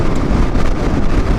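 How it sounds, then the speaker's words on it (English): Strong, steady wind roar buffets the microphone while riding a motorcycle on Germany's twisty N500 route on a cold, windy day, loud and continuous with no other sounds through it. "Very windy, very cold actually."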